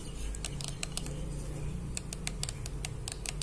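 Sharp, dry clicks from a repaired aftermarket back button attachment for a game controller, pressed in quick irregular bursts close up over a low steady hum.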